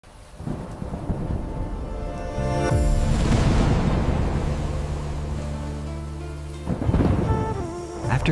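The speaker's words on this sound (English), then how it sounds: "the rain finally arrived, and greenery returned to the earth once again." A close, loud crack and long rumble of thunder rolls through steady rain, followed by a second thunder burst near the end, with rain pattering throughout.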